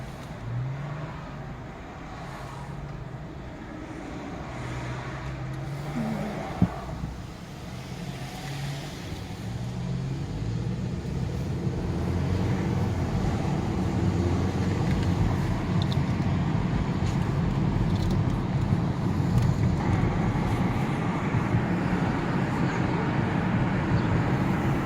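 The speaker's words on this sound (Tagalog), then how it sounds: "Oh, tingnan nyo, may traffic dito. May traffic sa Canada." Road traffic in Canada hums steadily as cars and larger vehicles pass, a broad rumble that grows denser and closer after the first few seconds, with faint talk early on.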